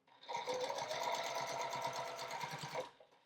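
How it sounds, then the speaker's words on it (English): A sewing machine runs continuously through a quilt, a fast steady mechanical whir and needle clatter close by, starting and stopping cleanly over about three seconds. "So I'm going to stitch in the other direction"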